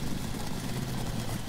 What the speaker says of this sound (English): this freaking car is so loud